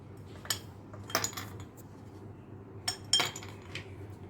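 Ice cubes drop one by one into a bowl of strained watermelon juice, making a few bright clinks and knocks in two small clusters, close and fairly quiet.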